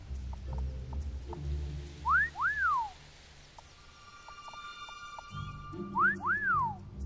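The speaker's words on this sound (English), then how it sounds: "Was that a whistle?" A two-note rising then falling whistle signal from the Xbox 360 game Fable 2 sounds twice, a few seconds apart, over a low droning game ambience and music.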